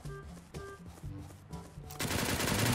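Gunfire in the top-down shooter game Surviv.io, with a few spaced shots followed by a louder burst of rapid automatic fire near the end, heard alone and without talking.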